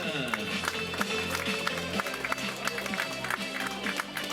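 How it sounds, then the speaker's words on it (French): A crowd applauds the Master 2 podium at an awards ceremony after a 5 km road race, with scattered, steady clapping over background music and murmuring voices. "Applaudissements au podium Master 2, Cédric."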